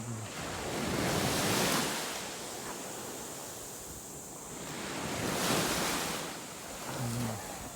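Ocean waves wash onto a beach at Bolinao, Pangasinan in slow, rolling swells of broadband hiss that rise and fall, with wind rushing across the microphone.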